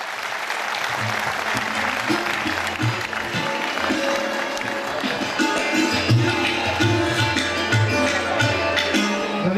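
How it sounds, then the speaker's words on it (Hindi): Steady, dense applause from an audience at a book release event in Amravati, continuous and fairly loud throughout, with a faint murmur of voices underneath. "आप दोनों पर कमरों से तालियां बजाइए।"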